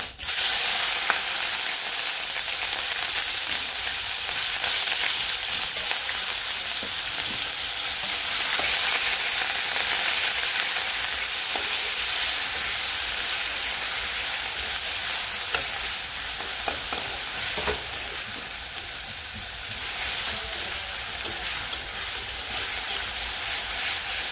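Cinnamon and onion paste fry steadily in a pan for prawn malai curry, a continuous loud sizzle with occasional stirring scrapes and no talk.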